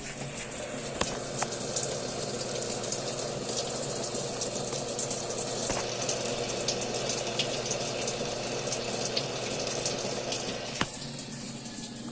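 Water flows steadily into a Samsung Active Dual Wash washing machine during a test after its solenoid was replaced, a continuous rushing fill under a low machine hum with a few faint clicks.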